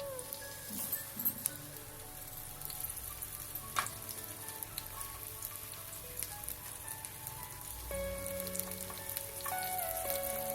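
Cumin seeds and two pieces of cinnamon fry in hot oil for palak gosht, making a quiet, continuous crackling sizzle with scattered small pops and faint clinks, no talking.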